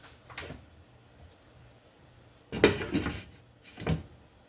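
A lid set onto a skillet of lasagna noodles and liquid, heard as a soft handling clatter followed by a firmer close metallic clank and a short settling knock, no talk.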